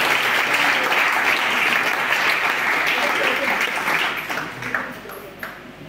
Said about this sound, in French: si vous voulez acclamer, c'est pour le Seigneur